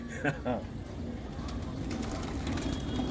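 Racing pigeons at a loft in Jafrabad, New Delhi coo in a few soft, low phrases near the start, then the sound fades into a steady murmur of background voices and ambient noise.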